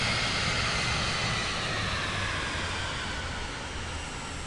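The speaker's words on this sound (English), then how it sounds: "Wow, I can land. We have a huge runway to land on." Steady roar of a large heavy jet airliner rolling down a runway after touchdown at night, broadband engine and wind rush holding loud and close, easing slightly toward the end, with no voices.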